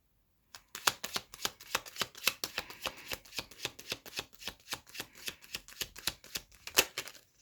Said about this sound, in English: we've got too many cards